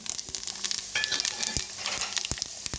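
Pepper, cardamom, cinnamon, cloves and star anise frying in a pan, a close, steady sizzle with occasional crackles and pops and light stirring clatter.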